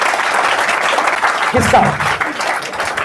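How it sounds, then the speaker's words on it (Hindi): An audience at a business coaching seminar claps steadily the whole time, a dense wash of applause with a voice speaking over it. "ताली बजा दीजिए, बैठिए साहब।"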